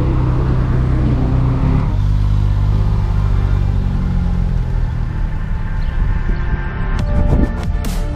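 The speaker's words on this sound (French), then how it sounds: "Les petits démarrages des moteurs là." Car engines start and rev on a sports-car road trip, a loud, steady low rumble that thickens midway, with a sharper burst of revving near the end.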